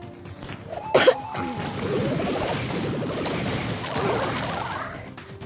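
A sharp cough bursts out near the start, followed by a steady low clatter and background noise.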